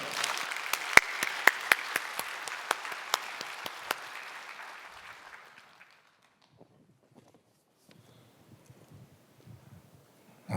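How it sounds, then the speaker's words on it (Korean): A church congregation applauds as a member comes forward, dense clapping with a few sharp individual claps for about five seconds before it fades into a quiet room with faint shuffling. "우리 최원빈 집사님 나오실 때 우리 박수로 맞이해 주시기 바랍니다"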